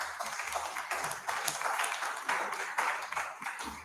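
Audience clapping at an arts gathering, a steady dense patter of many hands that holds evenly throughout with no talk over it.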